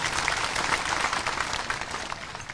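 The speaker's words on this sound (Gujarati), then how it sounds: "એકવાર જોરદાર તાળીઓ પાડી આપણે" A crowd at a village gathering in Mansa applauds newly appointed ministers with dense, steady clapping that stays fairly loud before fading slightly at the end.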